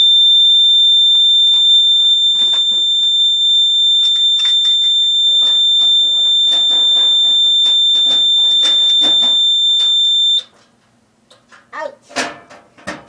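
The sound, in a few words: piezo buzzer alarm tone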